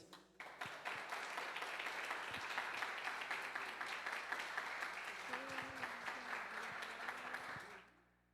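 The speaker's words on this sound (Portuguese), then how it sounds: "Aplauda o homem de Deus." Sustained applause from a church congregation at an evening worship service, dense steady clapping lasting several seconds and fading out at the end, with a faint voice and tones beneath.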